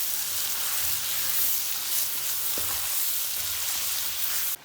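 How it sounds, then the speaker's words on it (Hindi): Potatoes fry in a pan for Sindhi chicken biryani, giving a steady, close hiss of sizzling oil that runs evenly throughout and cuts off abruptly near the end. "अब हम इसकी 3 से 4 मिनट अच्छी तरह भुनाई करेंगे।"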